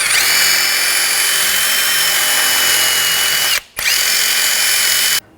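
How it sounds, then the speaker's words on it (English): A powered wire brush spins against corrosion on the wheel hub area of a 2013-2019 Ford Escape, making a loud, steady high whine with one brief pause before stopping, heard alone without talk. "if there's a lot of corrosion in this area, you want to take a wire brush and just clean this up a little bit"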